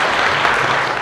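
Audience at a school reunion event clapping, a dense, loud, continuous burst of applause throughout the brief moment.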